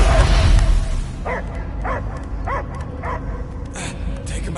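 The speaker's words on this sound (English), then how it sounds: "I hear only barking." Barking of a dog heard inside a mind sequence in the video game Guardians of the Galaxy, a run of about five evenly spaced barks over a steady rumbling game backdrop.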